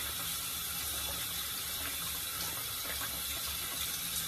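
A brass-handled safety razor blade is rinsed under a running tap, producing a steady, close hiss of flowing water into a sink that holds evenly throughout with faint metallic clicks.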